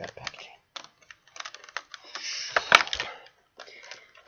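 Plastic packaging for an Arrow action figure being torn open by hand, sharp crinkling and ripping in short irregular bursts with quiet gaps, close up and alone.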